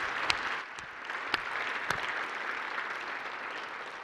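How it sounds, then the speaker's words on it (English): Luncheon audience at a satellite industry awards event applauding the nominees, a steady wash of clapping with a few sharp individual claps standing out near the start. "let's give the nominees for Satellite Exec and Satellite Tech a big round of applause"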